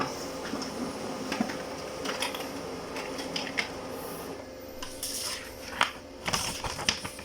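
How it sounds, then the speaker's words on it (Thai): A Brother MFC-L2750DW laser printer runs off a test page, giving a steady mechanical whir with irregular clicks and clunks that grow busier near the end. Nobody speaks. "รอสักครู่เครื่องก็จะพิมพ์กระดาษแผ่นเทสออกมา 1 แผ่น"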